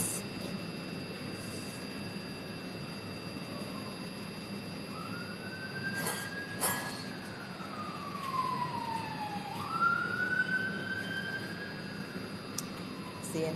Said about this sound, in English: Seeing that siren right there?